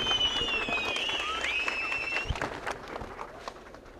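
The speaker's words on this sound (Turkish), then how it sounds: "sizlerden şöyle kocaman bir alkış rica ediyoruz" A crowd at a DEVA Party gathering in Van welcomes Zeynep Babacan with clapping, shrill whistles and cheering. The whistles are loud over a busy background of claps and crowd noise, then the whistling drops away and scattered claps continue.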